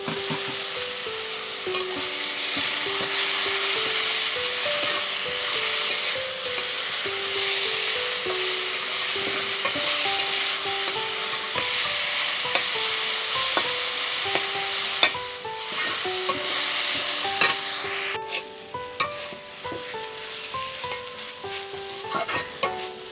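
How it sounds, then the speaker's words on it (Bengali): Pea greens frying in hot oil with dried red chillies, a steady close sizzle broken by scraping stirs of a spoon in the pan, with soft background music playing underneath. "তো ভালো করে নেড়ে চেড়ে লাল হওয়ার পরে শাকটা ছেড়ে দেব।"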